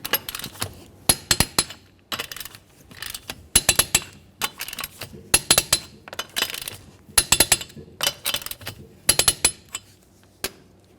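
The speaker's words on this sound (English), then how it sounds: "we'll torque each of these to 83 foot-pounds in a crisscross manner" Torque wrench tightening the wheel lug nuts on a Nissan Altima, a series of sharp metallic clicks and ratcheting bursts in uneven clusters, close and crisp against near silence.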